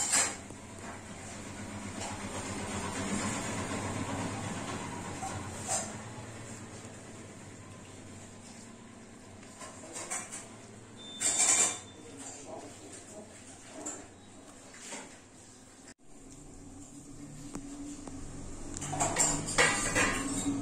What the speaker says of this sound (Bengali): আমি এবার এই মোমোগুলো সব দিয়ে দেব।